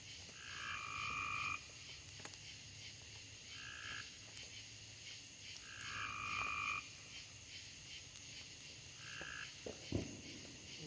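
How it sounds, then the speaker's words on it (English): Frogs croak at night in repeated bursts of rhythmic calls, each lasting about a second, from a steady chorus nearby. A constant high insect-like hiss sits underneath. "We got serenade, the frogs"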